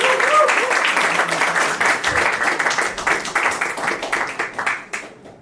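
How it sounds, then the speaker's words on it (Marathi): A talent-show audience breaks into loud, sustained applause and clapping to welcome a judge, continuous for several seconds before tapering off near the end. "please with a huge round of applause"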